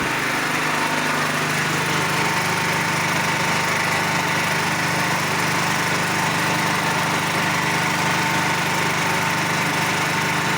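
Petrol generator converted to run on mains natural gas, idling smoothly: a loud, even engine drone with steady mechanical rattle, close up and continuous, no voices.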